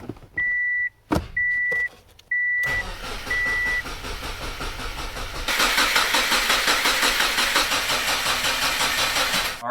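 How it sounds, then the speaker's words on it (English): A Subaru EJ253 engine cranks in clear flood mode after a rebuild: chimes and clicks first, then a steady rhythmic starter churn that grows louder and keeps going without catching, close by. "We went ahead and cranked on it for a good 5-10 seconds in clear flood mode just to get some oil up to the top end."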